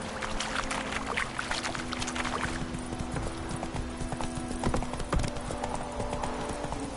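Horse hooves clip-clop at a steady pace in a video game as a rider heads toward a village, with a faint rushing ambience underneath and no talk.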